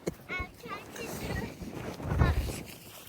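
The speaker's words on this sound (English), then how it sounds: "I did not expect this wind, but it's not cold" Gusty wind buffets the microphone on an outdoor walk, rising and falling in low rumbling bursts while a voice talks over it.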